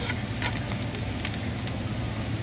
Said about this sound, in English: We saute the garlic and ginger till fragrant.